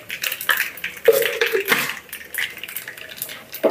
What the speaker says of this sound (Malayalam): കടുക് പൊട്ടി കുറച്ച് ഉലുവം കൂടി അങ്ങോട്ട് ഇട്ട് പൊട്ടിച്ച്